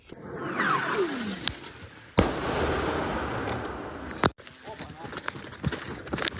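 Sharp explosive cracks of an incoming shell strike punctuate a steady roar of noise, one loud blast midway and another near the end, followed by scattered smaller bangs.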